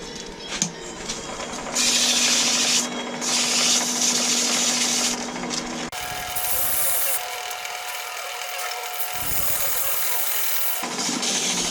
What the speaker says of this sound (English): You sand all that down.